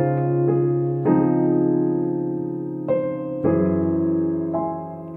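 Beginner piano arrangement of a song, B section played with both hands: sustained chords change roughly every second or two, with bass notes beneath a right-hand melody, close and clear with no talking.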